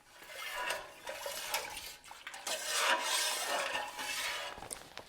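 A spoon stirring MM100 cheese culture into milk in a pot for Gouda, a steady close scraping and swishing against the pot that swells and fades over a few seconds, with no talking.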